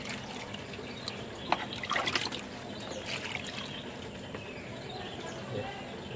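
Water trickles and splashes steadily while a kris (keris) blade is rinsed during a traditional washing ritual, a continuous close liquid wash with a few brighter splashes midway.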